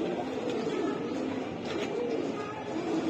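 A Sharan Makra Bagha pigeon pair gives soft, muffled cooing close by, steady and low over a hum of loft noise, with no talk.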